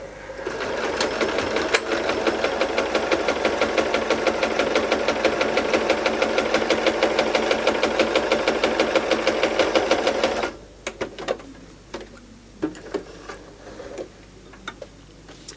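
A sewing machine stitches a straight hem along fabric, running steadily for about ten seconds with a rapid mechanical chatter, then stops, leaving a few scattered clicks and handling sounds.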